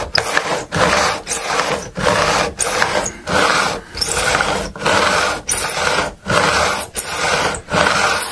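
File skimming lacquer off the frets during a Squier Standard Stratocaster refret, close rhythmic rasping strokes, about a dozen even passes with brief gaps between them.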